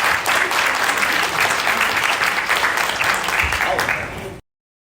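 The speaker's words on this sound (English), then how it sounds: "So a round of applause again for everyone who shared the story." Sustained applause from a conference audience, loud and dense with steady clapping for about four seconds before cutting off abruptly.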